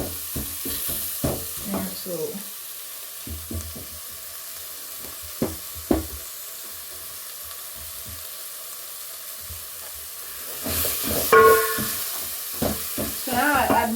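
Leftover stew and rice fry in a pan with a soft sizzle, broken by scraping stirs and clinks of the utensil, and a brief word of speech is heard near the start.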